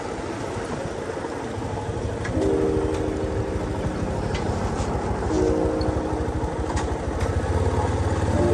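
A light rail train passing near an elevated station in an old urban district, a steady loud rumble and rail clatter with a brief horn-like tone, no one speaking.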